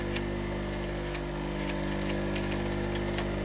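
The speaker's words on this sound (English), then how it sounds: "All that is the speed at which the grinder's going." A bench grinder runs steadily while a woodturning bowl gouge is sharpened, making a continuous close hum and whine with faint ticks of the tool against the wheel.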